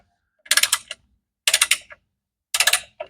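Torque wrench snugging bolts on a Nissan 200SX transmission in a crisscross pattern: three short bursts of quick, close ratcheting clicks separated by about a second of silence, with no talking.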